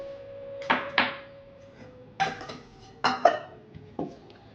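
A lid clatters onto a bowl of resting kachori dough for hing doi kochuri in a home kitchen: several sharp metallic clanks and taps in an uneven sequence, close by, over a faint hum.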